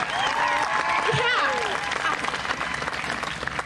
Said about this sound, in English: let's give him a better round of applause for that.